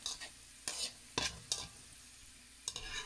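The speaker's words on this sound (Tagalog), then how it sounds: "Kailangan po ang pagluluto ng bawang" Garlic frying in hot cooking oil, a soft steady sizzle broken by several sharp scraping stirs of a utensil against the pan, close and alone with no talk.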